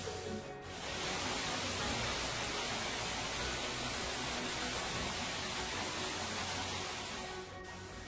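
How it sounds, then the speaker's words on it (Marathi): A waterfall in the Sahyadri hills at Tamhini Ghat crashes off rock into a pool, a dense, steady roar of rushing water that holds unbroken throughout. "सह्य कड्यावरून हा धबधबा कोसळण्यापूर्वी कातळाशी टक्कर घेऊन एका कुंडात विसावतो"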